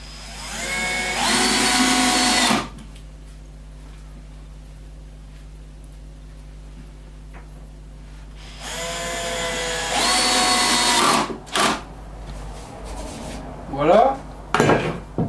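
A drill drives short screws into OSB board, with two loud whirring bursts of a couple of seconds each separated by quiet handling, followed by brief clicks and short spins.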